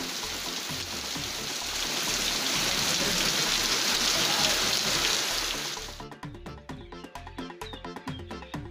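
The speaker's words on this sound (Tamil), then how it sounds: "இதனால் அங்குள்ள ஓடைகளில் தண்ணீர் ஆர்ப்பரித்து செல்கிறது." Water rushes through streams after heavy rain in farmland near Ganapathipalayam, a dense, steady roar of splashing flow that cuts abruptly to softer, patchier trickling near the end.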